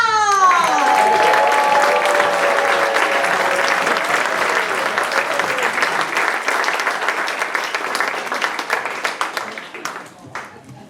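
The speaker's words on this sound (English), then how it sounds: "Put your hands together. Let them hear your love." A theater audience bursts into loud, sustained applause that slowly thins out, with a few whoops over the clapping.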